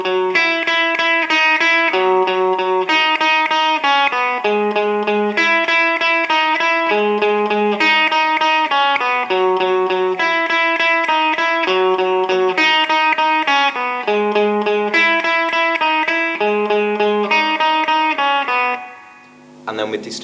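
Clean lead electric guitar plays the melody line of a song in a steady, repeating phrase of picked single notes, loud and upfront, ending with a short fade.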